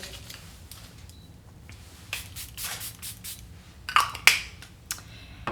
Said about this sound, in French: J'utilise ce setting spray de chez Charlotte Tilbury.